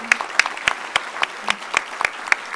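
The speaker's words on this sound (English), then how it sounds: "Ladies and gentlemen, let's please give them a round of applause." Crisp, evenly spaced claps from what sounds like a small group ring out close and dry in a school board meeting room, with no voices.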